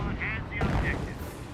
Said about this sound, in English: It is a Panzer Elite landmine there.